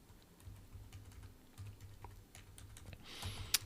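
Keys clatter on a computer keyboard during C++ coding of a Vulkan engine, with irregular light taps nearby and a louder burst near the end.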